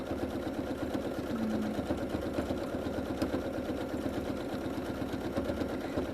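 A sewing machine does free motion quilting with a rapid, even needle chatter and a low motor hum that run continuously at a steady pace, close but fairly quiet.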